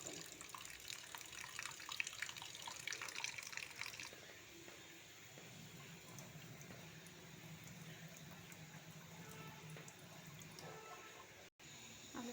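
Tap water runs steadily while potatoes are washed, louder and splashier for the first four seconds, then a softer, quieter trickle continues to the end.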